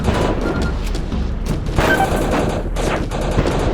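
Loud, close gunfire in the Heavy Fire: Afghanistan game during a firefight around a convoy, with dense, rapid overlapping shots and booms continuing throughout.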